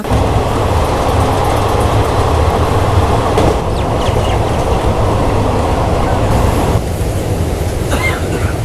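The Yelagiri Express passenger train on the Jolarpettai to Chennai Central run gives a loud, steady rolling rumble and rattle that never lets up, dipping slightly near the end.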